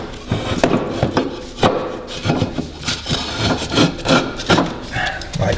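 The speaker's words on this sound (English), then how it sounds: "You just jam a piece of wood in there, just find a position." Loud, close knocks and scrapes as a piece of wood is jammed into a lawn mower deck during a blade change, irregular thuds and rubbing throughout.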